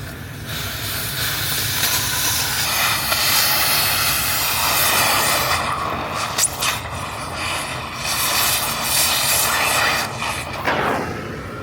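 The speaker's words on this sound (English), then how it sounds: "The acetylene plasma will cut through the cast here." Acetylene torch cutting through the cast housing of a Jeep Liberty Dana 44 axle, a steady loud roaring hiss that holds throughout, with brief sharper pops and flares near the middle and end.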